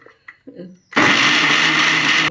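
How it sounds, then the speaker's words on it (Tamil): A few soft knocks and handling sounds come first, then an electric blender roars loudly and steadily for over a second, mixing a mango milkshake with added milk. "அதில் கொஞ்சம் பாலை விட்டு திருப்பியும் மிக்ஸ் பண்ணிக்கலாம்"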